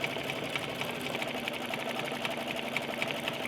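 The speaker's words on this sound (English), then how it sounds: "machine can easily glide over the areas where I've added the arms and the legs" Embroidery sewing machine stitching a baby bear lovey over thick layered arms and legs, a fast steady mechanical whir of rapid stitches, close and continuous with no talk.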